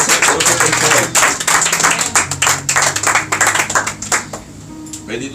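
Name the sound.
congregation applauding for Christ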